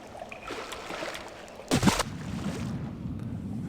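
A character swimming through water in the stealth game Thief, with a brief loud splash in the middle over a steady watery, windy wash, no talking.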